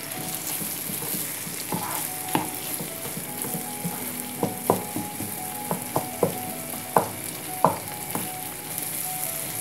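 Sardines cook in a pan with onion and spices for a Bengali do-peyaja, a soft steady sizzle broken by a string of sharp spatula clicks and scrapes as the mixture is stirred, close by and without talk.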